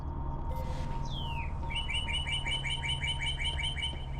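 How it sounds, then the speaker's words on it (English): Synthetic bird chirping inside the Portal 2 video game: a rising whistle followed by a rapid, regular series of bright tweets over a low steady hum, heard alone. "Why is there a bird?"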